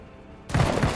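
Gunshots from the tactical video game Menace cut in abruptly after a quiet half second, a loud, dense burst of close fire with a rough, rapid rattle that continues to the end of the clip.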